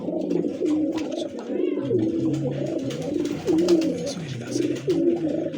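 A Sialkot pigeon coos close by, giving repeated throaty, rolling coos in a steady rhythm that fills the whole stretch.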